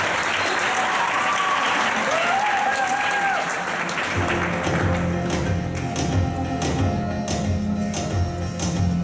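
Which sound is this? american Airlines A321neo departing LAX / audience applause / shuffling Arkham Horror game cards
audience applause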